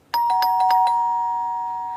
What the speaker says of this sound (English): Just then, the doorbell rang, and Linda and Benjamin both turned